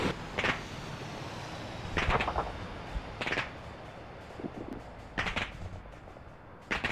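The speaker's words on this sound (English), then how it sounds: "Look at all that Tunguska fire" Tunguska anti-air guns in Arma 3 fire at Su-25 jets in several short, sharp bursts spaced a second or so apart, heard at moderate distance over a steady background rumble.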